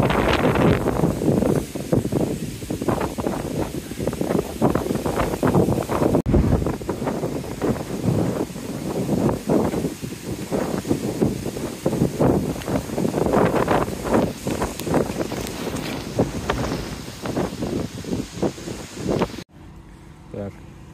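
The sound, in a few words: strong wind buffeting a boat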